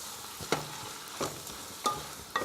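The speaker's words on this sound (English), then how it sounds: "I've turned the fire down, and what I want is for the leaves just to shrink down and cook down a little bit." Sweet potato leaves cooking down in a pan on low heat, with a faint steady sizzle and four sharp spatula scrapes spaced evenly through it; no voices.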